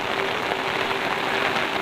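Heavy rain pours steadily on a village in Solok, Indonesia, a dense, even hiss of drops striking surfaces that continues without a break throughout.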